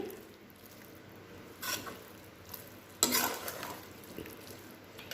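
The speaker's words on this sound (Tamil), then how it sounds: "அப்பப்போ எடுத்து கிளறி விட்டுக்கோங்க." Mushrooms fry in a pan for a mushroom gravy, giving off a soft, steady sizzle. A spoon scrapes and stirs through them in two short, louder bursts, with no talking.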